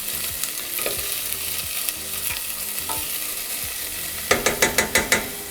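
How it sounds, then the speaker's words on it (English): Ingredients stirred in hot oil in a pan while making red lentil bolognese, a soft steady sizzle with irregular scraping strokes, then a quick run of six sharp clinks near the end. "And just give them a bit of a stir in with the oil"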